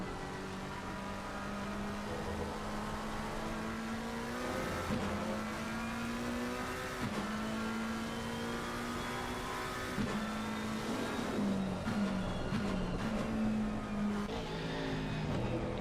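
BMW and McLaren race cars lap the Paul Ricard circuit through high-speed corners, engines droning steadily with repeated pitch drops and rises as they brake and accelerate, a continuous loud motorsport roar with no talk.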